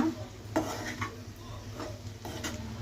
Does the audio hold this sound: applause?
no